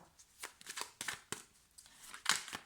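Cards are handled and drawn from a deck, producing a run of quick papery flicks and snaps at close range, with a sharper slap near the end.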